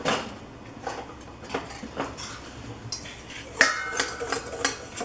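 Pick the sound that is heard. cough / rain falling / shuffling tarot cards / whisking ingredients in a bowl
whisking ingredients in a bowl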